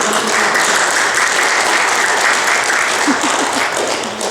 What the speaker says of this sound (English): one more round of applause for our amazing videographer Kathy Boyd